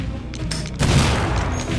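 Shotgun blasts in the video game Brush Burial: Gutter World, a loud booming burst of gunfire with rumbling echo, preceded by a few quieter muffled shots.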